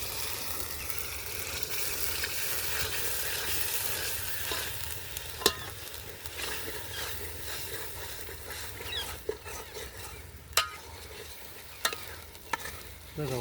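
Green onion gravy fries in a pan outdoors in a farm field, a steady bubbling sizzle with soft stirring scrapes and a few sharp clicks of a utensil, moderately close and continuous.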